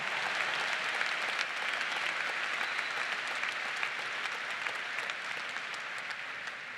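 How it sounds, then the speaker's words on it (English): A large commencement crowd at Ball State University applauds the class of 2019, a continuous, even roar of clapping that holds steady throughout. "Give them a round of applause to that fabulous class of 2019"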